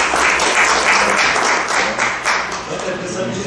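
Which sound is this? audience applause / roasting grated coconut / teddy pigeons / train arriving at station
audience applause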